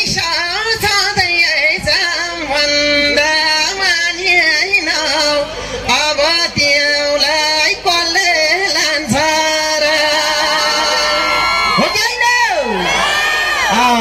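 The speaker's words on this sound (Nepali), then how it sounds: "जोरदार ताली बज्छ सबैजना" An outdoor festival crowd at a mela in Palpa cheers and whoops loudly, with sustained shouts and rising yells layered over a lively, dense roar of voices.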